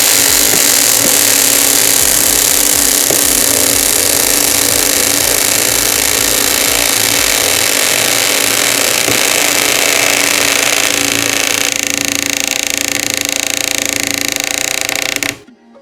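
Cordless screwdriver driving a 4x80 screw, a loud, steady, close motor whir held for about fifteen seconds before stopping abruptly at the end.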